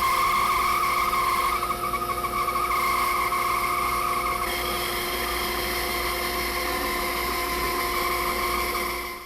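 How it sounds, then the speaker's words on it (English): A bandsaw with its table tilted five degrees cuts through wood for a tool holder, producing a steady loud whining drone that runs unbroken before fading at the end. "I tilted my bandsaw table 5 degrees. I'll make the cut here"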